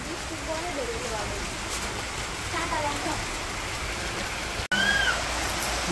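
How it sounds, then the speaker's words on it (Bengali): Steady rain patters and hisses throughout, with a few distant voices and a brief cat-like call barely rising above it. "বৃষ্টিটা হয়ে গেল"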